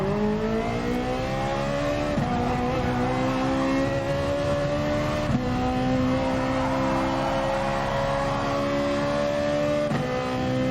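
Ferrari GR4 race car in Gran Turismo Sport, its engine droning loud and steady with rising pitch sweeps through the gears, dropping sharply at each shift about every three seconds, sustained throughout.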